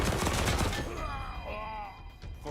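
Rapid gunfire bursts from combat in Wasteland 3 crackle loudly in the first second, then fade into game ambience with tonal effects and background voices.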